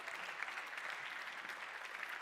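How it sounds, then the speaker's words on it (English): Applause from an audience at a university arts and technology symposium, a steady even patter of many hands clapping at moderate distance with no talk over it. "Please give a big round of applause."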